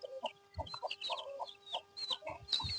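A native country hen among her chicks gives repeated soft clucks, close by, with brief higher chick peeps scattered over a steady hum.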